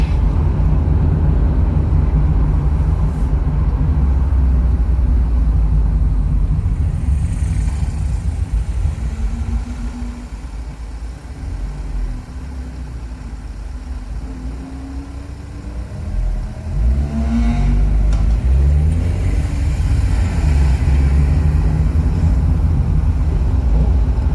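Steady engine hum and tyre roar of a car being driven on an urban road past a telephone exchange, heard from inside the cabin, loud and continuous with a brief quieter stretch midway, no talking.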